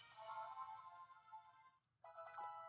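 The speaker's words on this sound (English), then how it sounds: "Someone is just blowing up my phone." A phone ringtone plays loudly and steadily for nearly two seconds, breaks off briefly, then starts again, with no talking.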